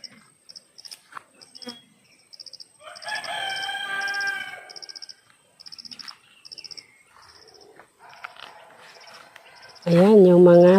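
Chickens cluck and call outdoors amid steady chirping insects, with a brief crowing-like cry, and a person speaks loudly near the end.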